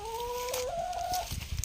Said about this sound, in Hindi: एक मुर्गी यहाँ पे रखी हुई है